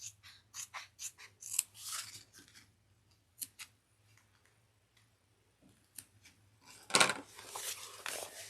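Scissors snip through fabric while trimming a seam allowance on a woven zipper tote, a series of soft, quiet crisp cuts in short bursts with pauses, closer and sharper near the end.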